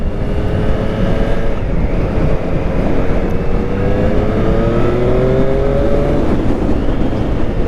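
A Triumph 765 Street Triple RS motorcycle engine revs steadily and loudly, its pitch sweeping upward through several rising strokes over a constant dense roar, close and with no talk.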